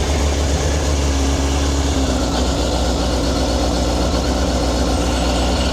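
A sportsbike engine, an older model, fires from cold and settles into a steady, loud, close idle, a continuous rumbling burble with no talk.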